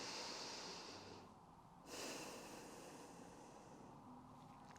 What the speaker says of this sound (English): And just take a deep breath in.